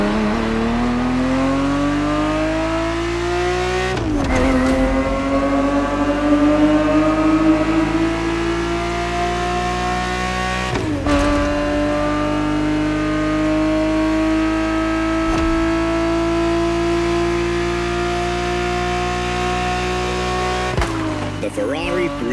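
Ferrari 365 GTB4 engine in The Crew Motorfest racing game, a loud, steady rising drone that climbs through gears, with three sharp shift breaks where the pitch drops before building again, under continuous talk.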